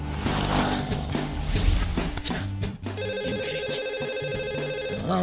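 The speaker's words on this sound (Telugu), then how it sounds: "ఈ ఫోన్ కాడే చేస్తున్నట్టున్నాడు." A mobile phone rings with an incoming call, its repeating electronic ringtone starting partway through and continuing steadily to the end, after a stretch of louder mixed scene noise.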